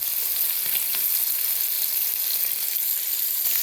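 Mackerel frying in hot oil after being turned, a steady close hissing sizzle with faint crackles throughout, no voices.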